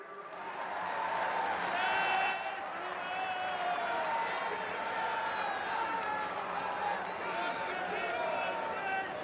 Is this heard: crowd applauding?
yes